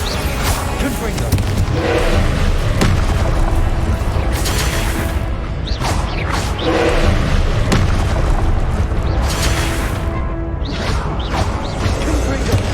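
Repeated Confringo fire-spell blasts from Hogwarts Legacy, a string of loud booming bursts over dense continuous game noise, with a voice speaking between hits.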